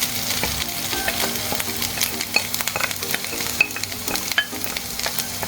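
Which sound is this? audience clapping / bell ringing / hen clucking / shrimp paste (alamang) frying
shrimp paste (alamang) frying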